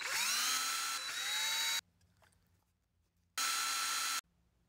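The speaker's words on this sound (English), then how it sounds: "So I needed to hold the gear down and drill it at the same time" A loud, steady power drill whirs for nearly two seconds while drilling a hole in a plastic LEGO motor gear, stops, then runs again in a shorter burst before cutting off.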